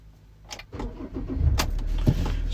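A 2019 Ford Ranger 3.2 TDCi 200 Limited automatic diesel with 35,000 miles cranks over with a few clicks and catches, settling into a close, loud, steady idle rumble.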